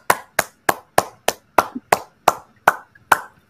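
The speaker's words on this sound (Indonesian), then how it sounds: "Mari tepuk tangan." Close, sharp hand claps strike in a slow, even rhythm, about eleven crisp claps spaced roughly a third of a second apart with silence between.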